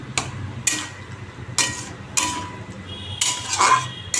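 A cooking pot of bottle gourd curry is lifted off the stove, with a series of sharp metallic clanks and clinks of pot and utensils against the burner, close by, over a low steady background hum.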